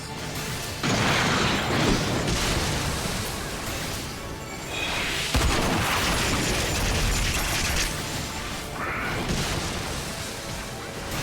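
Detonated pools exploding in the video game Final Fantasy XIV, a dense run of loud rumbling blasts and crashes that overlap continuously with mechanical game noise and no clear talking.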